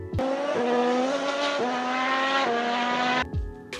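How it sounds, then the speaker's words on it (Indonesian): A Formula 1 racing car with a V6 hybrid engine revs loudly and steadily, its buzzing harmonic tone jumping up in pitch at several quick upshifts before cutting out. "Selanjutnya mesin V6 hybrid."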